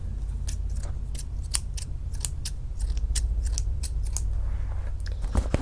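Small scissors snip again and again in a quick, uneven series of sharp clicks over a steady low hum.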